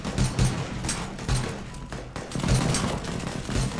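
Explosions in the zombie-escape video game Pandemic Express: a dense run of booming blasts and gunfire-like bursts, loud and continuous, with several heavier thumps standing out across the stretch.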